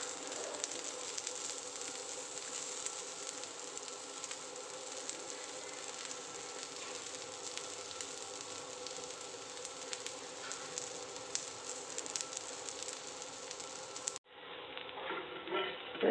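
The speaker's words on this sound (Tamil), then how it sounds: "போட்டு லேசாக பெரட்டின பிறகு எண்ணெய் ஊற்றுவோம்." Aloo paratha frying in oil on a pan gives a steady, close hiss and crackle of sizzling that holds throughout, then cuts off sharply near the end, leaving a thinner, quieter hiss.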